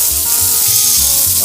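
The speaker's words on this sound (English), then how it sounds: "Listen to that sizzle." Thin minute roast meat searing in a hot pan, a loud continuous sizzle and crackle close up with no talking.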